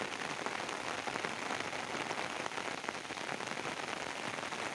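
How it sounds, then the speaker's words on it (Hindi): Steady rain pours onto rice farm fields in a village, a dense, even hiss of drops close by with no voices and no breaks. "अभी तो ज़्यादा हो रही है बारिश की पानी"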